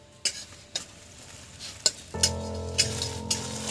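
A spoonful each of cumin and fennel seeds hits hot oil in a pan for Bengali dudh shukto, giving a sudden burst of bright sizzling amid sharp spoon-and-pan clinks, close and alone.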